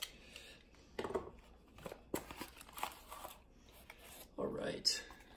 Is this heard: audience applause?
no